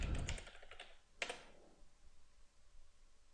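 Brief burst of keystrokes on a computer keyboard, a quick cluster of clicks followed by a single sharper tap, then near silence.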